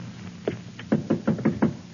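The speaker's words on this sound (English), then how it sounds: "to answer the violent pounding on the outer door" Heavy pounding on an outer door in an old-style radio drama, a burst of about eight hard, evenly spaced knocks that grows stronger, close and forceful with no voices.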